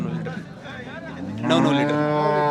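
A cow moos at the Sangola cattle market: one long, loud, close bellow rising out of busy market murmur, with people talking in the background.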